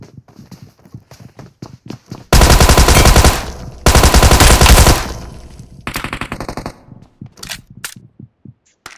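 Video-game gunfire cracks in quick single shots, then two long, loud bursts of rapid automatic fire, followed by more spaced shots tapering off.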